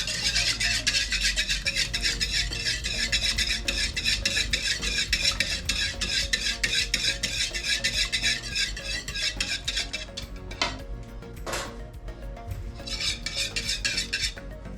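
Egg being mixed into ring doughnut batter in a bowl, a fast, steady scraping and tapping of a utensil against the bowl, close and continuous, easing into a few separate strokes near the end.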